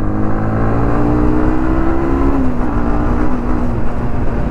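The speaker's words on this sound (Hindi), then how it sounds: "मैक्सिमम मैक्सिमम आरपीएम राइड मारेंगे भाई।" Yamaha MT-15 V2 BS6 motorcycle ridden at night at maximum RPM, a loud close engine drone that holds high revs and then dips slightly in pitch midway.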